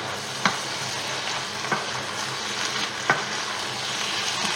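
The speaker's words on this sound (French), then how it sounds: "Les légumes cuisent tranquillement." Veal paupiettes and vegetables fry gently in a pan with a soft, steady sizzle, broken by a few sharp clicks of a utensil against the pan.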